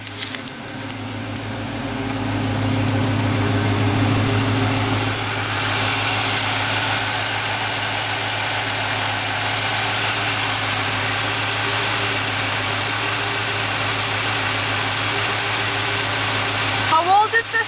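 A 1972 car engine idles steadily, a low rumbling drone that swells slightly after a couple of seconds and holds even, with a faint rattle near the end.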